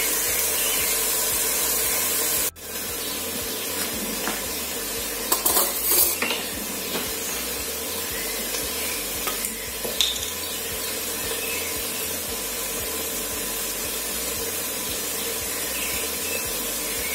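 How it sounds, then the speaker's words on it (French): Water with dry seasonings boiling in a covered pot on the stove, a steady hissing and bubbling rush with a few soft clinks and knocks near the start, close and continuous, with no talking. "Et je vais fermer, laisser que ça boue un peu."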